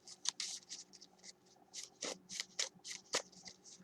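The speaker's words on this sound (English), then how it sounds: "I'm going to shuffle the deck" A 45-card trading card game deck is riffled and shuffled in quick repeated bursts, crisp fluttering snaps close by with short pauses between.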